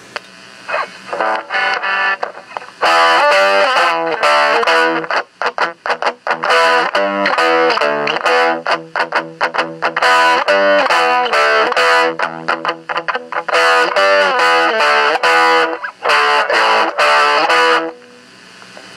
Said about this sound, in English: Let's get a little distortion.